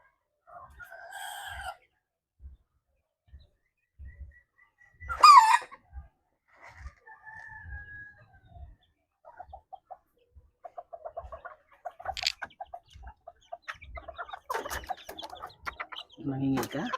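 Bantam and Livorno chickens cluck in scattered bursts, with a rooster crowing once partway through, while a person speaks intermittently nearby over faint rhythmic low thumps.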